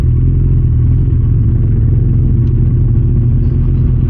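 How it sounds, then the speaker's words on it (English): A Kawasaki Ninja ZX-14R sport bike with an inline-four engine, a loud continuous low growl heard up close while riding, steady throughout with no voices. "Having an inline 4 with the sport bike sound is pretty cool."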